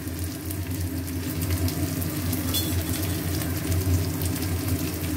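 Chopped onion with green chilli frying in a pan, a steady moderate sizzle with a low hum underneath and no talking.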